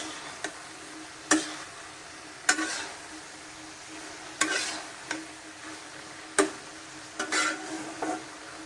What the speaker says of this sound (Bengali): যে আলু ভাজি চলতেছে।